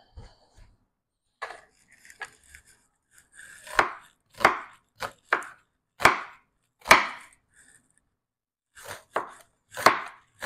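A knife chops onion on a cutting board in irregular sharp knocks, sparse at first, then a quick run of firm close strikes, a pause, and another short burst.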